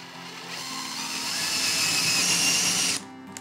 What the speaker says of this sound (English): we're drilling a hole in the back that's gonna be used to hang it